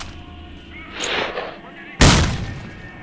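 A grenade explodes in the STALKER: Shadow of Chernobyl video game, a loud close blast near the two-second mark after a softer burst of gunfire, with the booming rumble trailing off over a low background hum.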